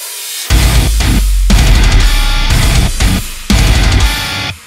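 A full metal band hammers out a breakdown, heavily distorted guitars and pounding drums in loud, choppy bursts separated by sudden stops, dense and close throughout.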